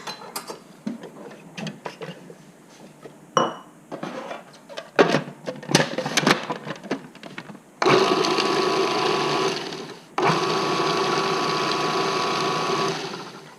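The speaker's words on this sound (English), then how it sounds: "we're going to blitz our nettles in a food processor" A food processor blitzing nettles runs in two loud, steady motor bursts separated by a short pause, preceded by scattered clicks and knocks of loading and handling.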